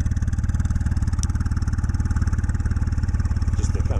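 A Honda GL1500 Goldwing with aftermarket HD mufflers and custom bent pipes idles steadily, giving a close, even, low throbbing pulse that is a little louder than stock, with no talk over it.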